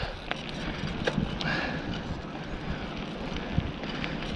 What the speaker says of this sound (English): Sorry if it's a little windy today